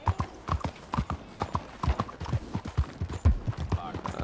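Horse hooves clip-clop in a steady, quick rhythm in the Red Dead Redemption 2 game world around Saint Denis, moderately close and continuous, with faint background ambience.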